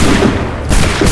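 Musket volley gunfire in Assassin's Creed 3: a loud, close burst of massed shots, then a second crackling volley after a brief dip.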